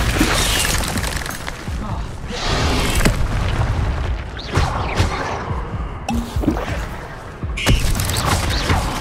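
Incendio fire spell cast in Hogwarts Legacy, a series of loud booming bursts and whooshing flame blasts with crackling debris, dense and close, overlapping with further spell effects and combat noise.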